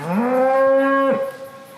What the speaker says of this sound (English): as these cattle come forward and taste it, they bellow